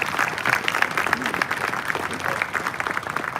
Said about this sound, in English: please join us in a round of applause to all award recipients